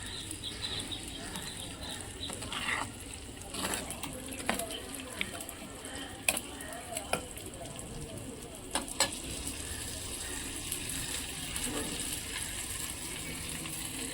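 Egg curry gravy sits heating in a pan on the stove, sizzling steadily and close up, with scattered sharp clinks and scrapes from stirring.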